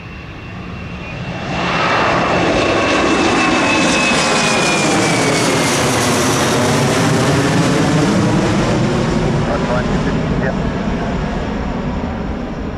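A Boeing 717 / MD-95 jet airliner passes near Maui's Kahului airport with a loud, sustained roar that swells, holds steady and starts to fade, its whine sliding in pitch as it goes by.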